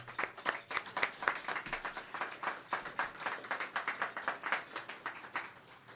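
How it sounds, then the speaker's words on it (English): Applause from the audience at the Canada–EU Summit opening reception for Prime Minister Justin Trudeau: a fairly quiet, steady patter of many hands clapping for several seconds, with no voices over it. "I think he deserves a round of applause."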